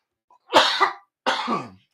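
Two short, harsh coughs close by, a brief pause between them, with silence before and after.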